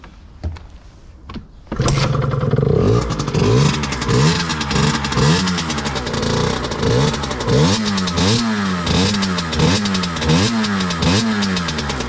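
A Beta 50cc AM6 moped engine, cold and long unused, sputters before catching at about two seconds, then revs hard in repeated rising-and-falling surges, loud and close with no talk.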